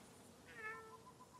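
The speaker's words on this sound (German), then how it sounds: "Miau." A single faint cat meow from the video game The Last of Us Part 2, rising and falling over a quiet ambient background, with no talking.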